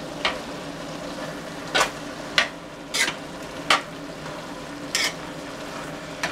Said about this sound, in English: I suppose I should actually stir this in, huh?